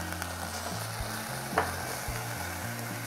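Leek sizzles steadily in a sauté pan as the base for a quinoa and vegetable dish, a close, even frying hiss with a faint stir or clink partway through and no talking.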